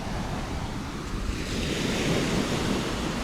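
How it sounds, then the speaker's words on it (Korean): Ocean waves wash and roll in a steady broadband roar at Eodal Beach, South Korea, mixed with wind buffeting the microphone, no voices. "내가 좋아하는 바닷소리"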